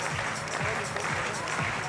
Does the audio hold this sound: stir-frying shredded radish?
no